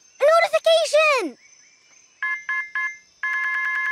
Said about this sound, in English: A notification!